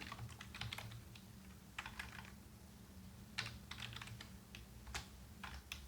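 Fast, irregular keystrokes on a computer keyboard while typing CSS code, crisp and close, in short bursts with brief pauses over a low steady hum.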